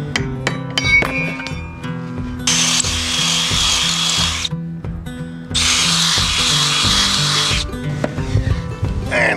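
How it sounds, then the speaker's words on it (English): A power drill bores holes through a boat rudder skeg in two long sustained bursts, loud and close, with shorter tool clatter and handling knocks between them. "I just have to drill out the skeg"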